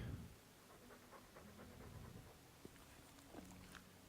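Mabari war dog in the Dragon Age 2 video game panting steadily at close range, a soft rhythmic breathing with a few faint game sounds around it and no talk.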